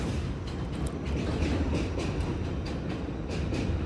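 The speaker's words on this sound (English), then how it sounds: "He's here on the train. That's the train, Bows." A train rumbles steadily past nearby, a continuous low roar with faint rhythmic clatter of wheels on the rails.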